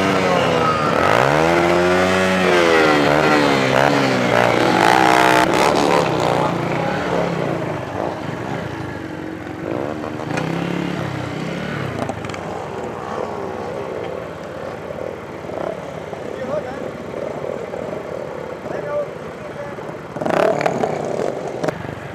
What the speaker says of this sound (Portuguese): Aqui é o encontro onde fica várias motinhas